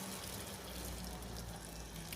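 Water runs into a pot of carrots and potatoes, a faint, steady pouring rush with a low gurgling undertone throughout, no voices.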